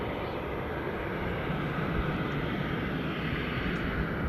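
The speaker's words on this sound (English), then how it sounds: "It's EasyJet next to depart. Out to Palma de Mallorca." An EasyJet airliner departing Manchester Airport for Palma de Mallorca gives off a steady, fairly faint engine roar, an even broadband wash that holds without change and is heard from a distance, with no voices.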